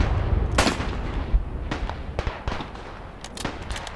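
Automatic weapon gunfire in the war game Beyond The Wire, sharp loud shots and short bursts ringing out, some close and some more distant, through a noisy battlefield.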